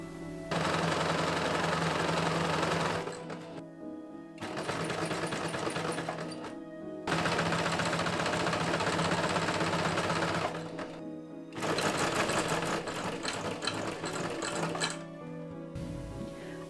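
A sewing machine hems the edges of fabric pieces for a short hoop skirt and petticoat, running in four long steady bursts of rapid stitching with brief pauses between them, fairly quiet and alone.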